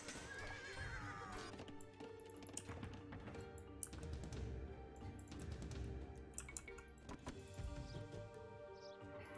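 Horses in the Age of Empires II battle neigh and whinny amid clip-clopping hooves and clashing combat effects, a busy, layered game soundscape at low volume.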